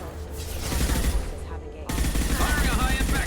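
Bursts of gunfire in Mass Effect 2 Legendary Edition, dense rapid shots in two stretches with a brief lull between, loud and close, with game voices mixed in.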